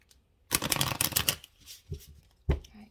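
Tarot cards being shuffled up close, with a dense riffling burst, a few softer card flicks and then one more sharp snap near the end, and no voices.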